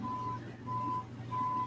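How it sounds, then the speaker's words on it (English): Intermittent reversing-style beeps from a garbage truck outside, three steady electronic tones spaced about half a second apart, heard faintly over a low background hum. "That's the garbage truck or something."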